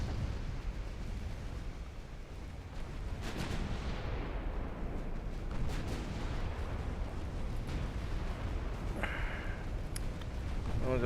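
Warship naval guns firing at destroyers in a naval battle game set in the dreadnought era: heavy booming salvos over a constant low rumble, with a few distinct blasts spaced several seconds apart, no talk.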